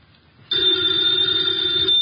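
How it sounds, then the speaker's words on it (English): A telephone bell rings loudly and continuously, a bright sustained metallic trill that starts abruptly after a brief quiet moment and rings without pause. "the ringing of that phone bell brings you mystery, adventure"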